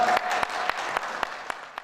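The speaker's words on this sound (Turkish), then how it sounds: "Alkışlar." A television word-game show studio audience claps in a brief burst, a dense patter of hands punctuated by sharp individual claps, fairly soft and steady before trailing off.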